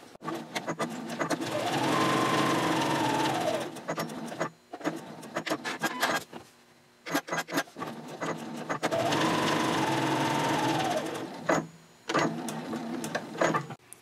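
A sewing machine stitches quilting lines on a small fabric card holder for a mini backpack: two long, steady whirring runs, close and loud, broken by short start-stop bursts and quiet pauses.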